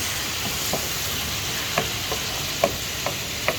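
Food frying in a pan for a creamy spinach and pork chop sauce with a splash of pasta water, a steady loud sizzle broken by scattered scraping clicks of a utensil as it is stirred.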